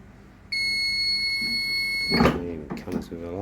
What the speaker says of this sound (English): And it comes with an alarm.